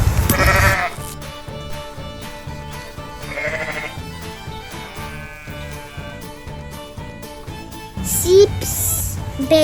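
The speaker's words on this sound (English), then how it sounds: "Look at the sheep." Sheep on a farm bleat several times in short wavering calls, fairly close and clear, with a soft background between calls.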